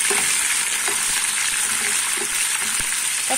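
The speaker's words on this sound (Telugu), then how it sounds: "పచ్చి వాసన పోయేంత వరకు వీటిని కూడా బాగా ఫ్రై చేసుకోవాలి" Coriander and green chillies fry in hot oil for tamarind pulihora, making a steady, dense sizzle throughout with a few soft stirring knocks and scrapes underneath, close and fairly loud.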